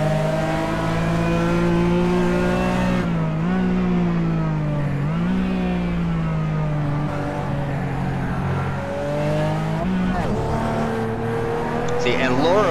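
RUF race car engines in an iRacing league race at Twin Ring Motegi, a loud continuous engine drone with pitch rising and falling through gear changes as another car closes from behind, under a commentator's voice.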